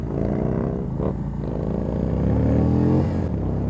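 A 2019 Indian Springfield Dark Horse 111 motorcycle accelerating in sport mode, its V-twin engine roaring loud and close with a rising, steady throaty rumble through the whole stretch.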